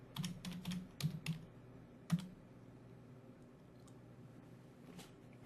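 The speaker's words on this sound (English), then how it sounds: "Maybe I should type the whole word in there." Quiet computer keyboard typing: quick bursts of keystrokes in the first half, a couple more clicks shortly after, then near silence with faint room noise.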